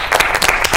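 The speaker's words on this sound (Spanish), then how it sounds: "Que un aplauso muy fuerte para él." Studio audience applause during a Spanish talk show interview, a short burst of dense, loud clapping with rhythmic individual claps standing out.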